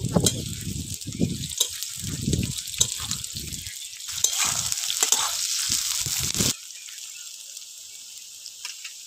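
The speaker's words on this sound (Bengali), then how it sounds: "এবার পেঁয়াজটা ভেজে নেব।" Chopped onions fry in hot oil in a pan for a lote fish curry, sizzling loudly with bursts of stirring for about six seconds before the noise drops to a faint hiss.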